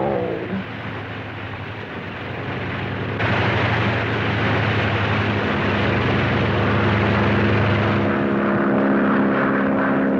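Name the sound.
propeller airplane flying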